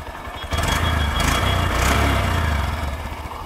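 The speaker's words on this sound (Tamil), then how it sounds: "ஸோ அப்படியே எக்ஸாஸ்ட் கேட்டுருவோம்." Close Honda SP 125 motorcycle exhaust idles with a low, even burble, briefly revved higher before easing back to a steady idle.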